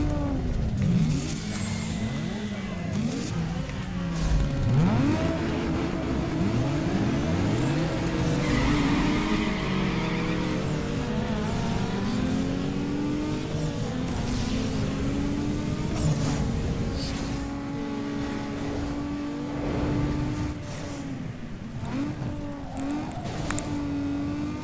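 A Nissan 350Z race car in Need for Speed Underground 2 revs hard through gear changes, its engine note climbing and dropping repeatedly, with tire squeal and passing traffic in a racing game.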